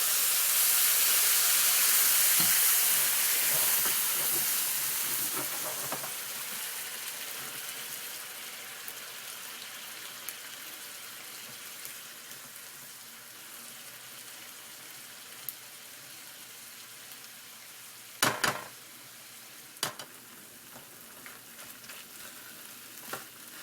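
White wine hits a hot pan of risotto rice with a loud, steady sizzle and hiss that gradually softens as it cooks down, with a few brief clinks of a spoon near the end.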